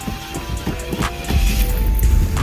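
An 80s American muscle car's carbureted engine runs just after starting, a loud close rumble with uneven low-frequency surges that build and steady toward the end.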